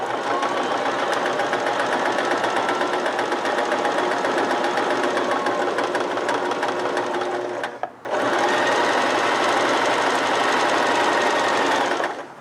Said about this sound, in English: let's listen to the sound of this machine as it stitches